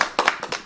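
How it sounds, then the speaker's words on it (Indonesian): A handful of sharp hand claps, about four quick bursts in under a second, close and fairly loud, during an Indonesian talk show on facing life's tests. "itu saya kasih tepuk tangan"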